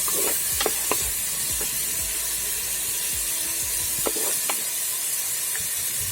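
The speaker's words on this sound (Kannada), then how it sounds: "ಟೊಮೆಟೊ ಹಾಕ್ತಿದ್ದೀನಿ. ಚೆನ್ನಾಗಿ ಫ್ರೈ ಆಗಬೇಕಿದೆ." Tomatoes frying in a pan for a potato and green pea gassi, a loud continuous hiss and sizzle with occasional stirring knocks and scrapes.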